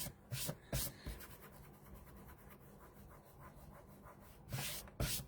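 A mark is rubbed off a notebook page in quick scratchy strokes, a few louder bursts at the start and end with quieter rubbing between, close and faint, no speech.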